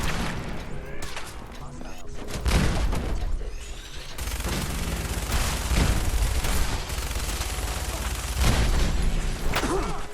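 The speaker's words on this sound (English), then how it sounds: "Overdrive a minigun combo" Heavy gunfire and booming impacts from a minigun in Fallout 4 rattle on for the full stretch, loud and dense with bursts and thuds.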